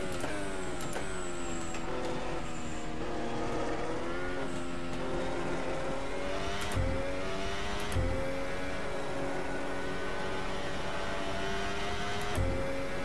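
An ACFL 2017 race car engine in the Assetto Corsa sim at Catalunya holds a steady, buzzing drone that climbs and dips in pitch as the revs change, heard alone with no talking.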